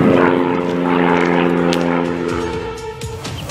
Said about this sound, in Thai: โน่นเครื่องบินมันบินไปโน่นแล้วครับ